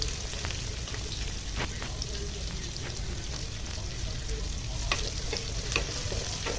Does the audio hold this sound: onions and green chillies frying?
yes